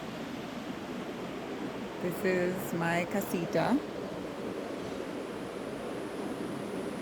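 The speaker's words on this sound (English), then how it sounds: "So there's a river down below." Steady broadband rushing of a river flowing below a hillside in the Peruvian jungle, continuous throughout, with a person speaking briefly over it partway through.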